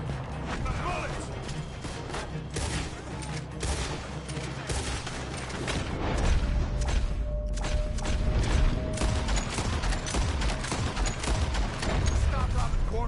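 Gunfire rings out in Red Dead Redemption 2 during a robbery shootout, rapid overlapping shots in a dense, sustained volley mixed with clatter, growing louder toward the end as a voice speaks in the game.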